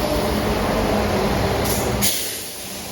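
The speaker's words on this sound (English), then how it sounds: "here comes the late running train to Stratford-upon-Avon from Kidderminster" A late-running train to Stratford-upon-Avon from Kidderminster on the Chiltern Mainline, a Class 172 unit, rumbles loudly and steadily up close into the station, then the noise drops away abruptly near the end.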